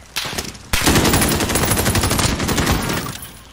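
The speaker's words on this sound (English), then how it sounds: "Somebody else is shooting too." Loud, close automatic gunfire from the shooter game Modern Warfare, a short burst followed by a long rapid stream of shots that tails off at the end.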